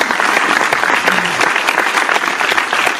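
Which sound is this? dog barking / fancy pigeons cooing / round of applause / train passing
round of applause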